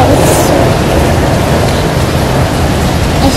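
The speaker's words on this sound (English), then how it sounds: "I'm just gonna wait for the rain to stop" Steady rain pours down at an outdoor stadium, a dense, even hiss of falling water that fills the whole stretch without a break and with no voices.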